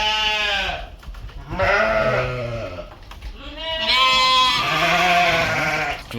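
Dorper sheep bleating in a maternity pen on a large dairy farm, several loud overlapping bleats in two main bursts close by, with no talk.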